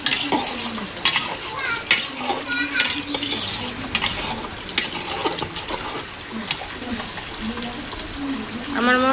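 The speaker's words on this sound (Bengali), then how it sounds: "নাড়া দিয়ে মিলিয়ে নেব।" Tehari spice mix is stirred into meat in a pot, with a steady frying sizzle and scraping stirs close by and a voice heard faintly in the background.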